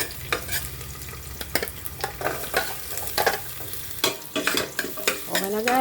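Onion, garlic and ginger sizzle in a hot pan with repeated scraping and stirring strokes, a steady frying hiss underneath; no voices.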